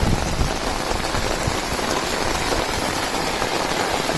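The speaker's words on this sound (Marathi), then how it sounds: "अंदाज बांधू शकता की किती जोरदार पाऊस आहे." A downpour falls near a village road in Shirur taluka, with water running off a terrace; the hiss of rain is loud, constant and close throughout the few seconds.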